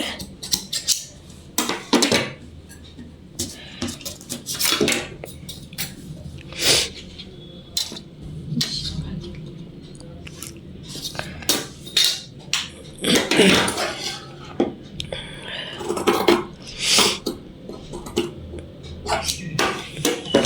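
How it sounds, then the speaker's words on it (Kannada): Scissors snip through blouse fabric in a series of sharp, irregular clicks and crunching cuts, close and fairly loud, with brief pauses between bursts and occasional low voice sounds. "ನೋಡಿ ಈ ರೀತಿ ಕಟ್ ಮಾಡಬೇಕು ಇದಿಷ್ಟು ಶೋಲ್ಡರ್ಗೆ"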